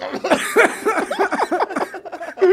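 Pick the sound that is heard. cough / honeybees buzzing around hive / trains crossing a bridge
cough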